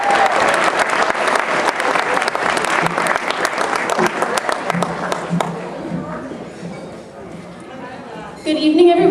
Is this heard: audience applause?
yes